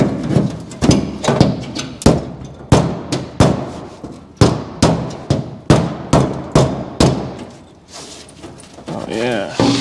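A body hammer beats out a panel on a cut-in-half 1955 Chevy in a series of loud, sharp metallic blows at an uneven rhythm, each one ringing briefly before the next.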